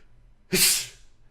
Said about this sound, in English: The dog just sneezed in my face